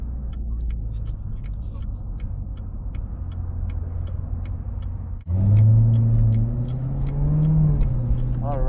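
Deep low engine rumble from a Corvette Z06 C7 on the road, a steady drone that swells into a louder revving growl about halfway, with a voice speaking over it.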